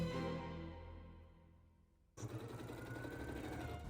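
A sewing machine stitches the side seams of a dress's sleeve cuffs, starting abruptly after a fading musical tone and running in a steady, close mechanical whir.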